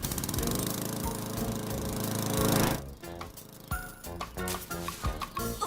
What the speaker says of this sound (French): la corde attachée à la tondeuse s'enroulera autour du piquet central